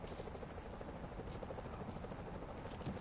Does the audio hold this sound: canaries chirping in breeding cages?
no